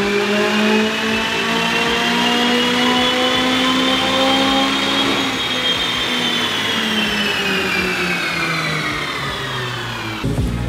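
A car engine on a dynamometer, tuned to about 570 crank horsepower and driving all four wheels, revs continuously and loudly, its pitch climbing steadily and then falling away near the end.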